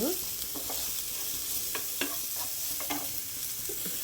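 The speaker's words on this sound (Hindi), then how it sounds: "किछि कटा कंचा लंका जस्ट हल्का भाजवा, बेसी रोस्ट करी भाजवानी।" Chopped green chillies frying lightly in a pan for mooli paratha, a steady close sizzle with intermittent stirring scrapes and clicks of a spatula throughout, no talking.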